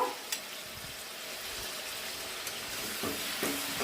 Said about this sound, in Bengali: আবারও একটা ছাঁকনির সাহায্যে আমি উঠিয়ে নিচ্ছি। এই যে এইভাবে তেলটাকে ছেঁকে উঠিয়ে নিচ্ছি।